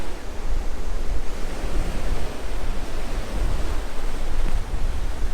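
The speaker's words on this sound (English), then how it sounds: "We'll see how this does in this wind." Strong wind buffets the microphone on a beach while waves surge and break, giving a loud, continuous roar of surf and gusts with no voices.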